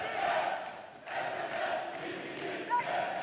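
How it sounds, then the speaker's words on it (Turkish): Eskişehir fans chanting at a professional kickboxing night, a distant crowd roar rising and falling in waves, moderately loud and without clear speech. "Eskişehirli taraftarların da tezahüratları var."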